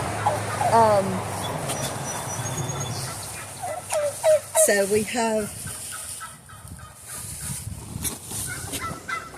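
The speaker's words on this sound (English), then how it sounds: "our tom turkey" A tom turkey gobbles loudly in several rapid bursts nearby on a farm, with a person speaking briefly and other fowl calling in the background.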